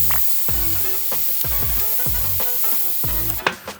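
Jerk turkey hisses and sizzles on a hot grill in a broad, steady wash of frying noise, close and loud, with repeated soft thumps and clicks over it and no talking.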